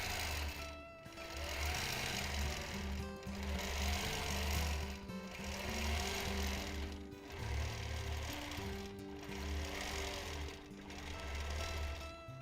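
A sewing machine doing free motion quilting runs in rapid, steady bursts of stitching, each burst a few seconds long and separated by brief pauses, close and fairly loud with no voices.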